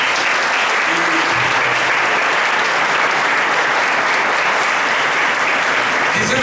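Loud, dense applause from the audience at a lecture hall event for Administrator's Day, many hands clapping continuously and close, filling the whole stretch with no talk.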